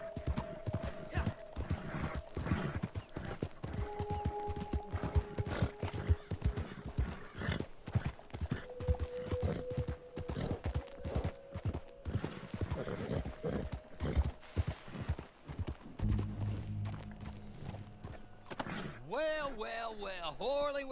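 Horses in the Red Dead Redemption 2 video game trot and gallop with steady, dense hoof clip-clops and a neigh near the end, under talk and game ambience.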